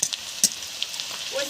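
Onions and chillies fry in a pan with a steady, fairly loud hiss, broken by a few quick pops and light clicks over a brief stretch.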